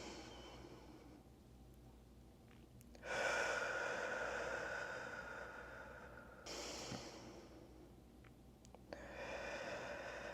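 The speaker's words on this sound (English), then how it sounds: "I would love if you would take a couple of deep breaths with me." Two deep breaths taken slowly, each a long, full inhale-and-exhale rush of air close to the listener, separated by a short pause, with no talking over them.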